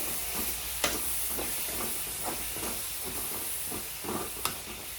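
Loud hissing and sizzling of spring onion and egg frying in a pan, with soft stirring scrapes and a couple of sharp clinks.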